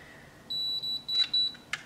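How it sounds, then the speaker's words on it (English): A BaBylissPRO MiraCurl automatic curling iron gives a series of short, high-pitched electronic beeps in an uneven rhythm, close and clear over near silence, signalling that the curl is ready. "And then it's going to beep. And then once it's done beeping, then you know the curl is ready."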